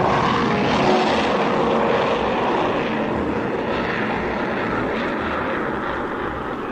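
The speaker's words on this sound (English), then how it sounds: "than an hour after Jet had spoken to Frank, the huge freighter passed overhead." A huge freighter spacecraft passes overhead as a radio drama effect: a loud, steady, broadband engine roar that holds for several seconds and fades only slightly toward the end, with no voices.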